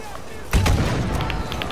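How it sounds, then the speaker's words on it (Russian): A loud explosion from an RPG fired in a tank combat video game hits sharply and rolls into a sustained rumbling boom. It follows a brief quiet lead-in, with faint voices mixed into the background. "Я взрываю его, я взрываю его."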